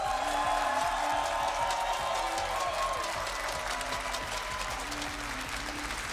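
A large esports arena crowd in Jönköping, Sweden, applauds and cheers the grand finalists at a Rainbow Six Siege major, a sustained wash of clapping with low music humming underneath.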